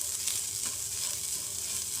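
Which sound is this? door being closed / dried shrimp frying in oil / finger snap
dried shrimp frying in oil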